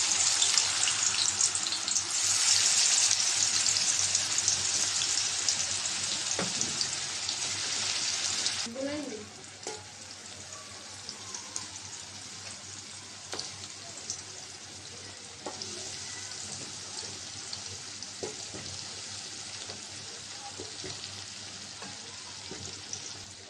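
Spiced chicken and potatoes drop into hot oil with a loud, hissing sizzle that settles after several seconds into a quieter, steady crackle with occasional stirring.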